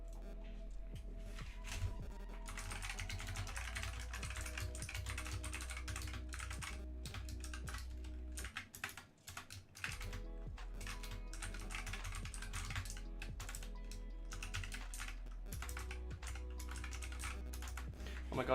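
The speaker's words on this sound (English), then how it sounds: "how do I type? I can type here." Fingers type steadily on a computer keyboard in rapid, close clicking bursts that continue for most of the stretch, pausing briefly midway, over a low steady hum.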